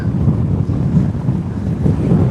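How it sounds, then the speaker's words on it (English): Steady gusty wind roaring across a mountain trail in Utah, buffeting the microphone in a continuous low rush with no voices. "a little windy. A little windy, but smooth and flat."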